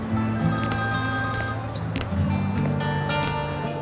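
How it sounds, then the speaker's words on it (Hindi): A telephone rings steadily amid a busy, loud mix of music-like tones and background noise. "एक मिनट, मुझे फोन उठाना है।"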